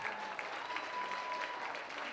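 Audience applause at a summer benefit for English in Action, a soft, even patter of clapping heard from a distance that holds steady throughout the brief moment.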